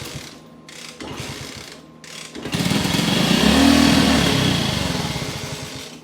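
Motorcycle engine being started with a hand choke, first a few sputtering, intermittent cranks and pops, then catching into a rough, loud running roar that swells and begins to fade, close by.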